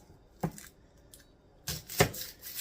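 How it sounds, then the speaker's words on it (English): Knife slicing through an onion on a cutting board: two separate crisp cuts, one short and one longer, close and clear with no talk. "we're going to slice an onion"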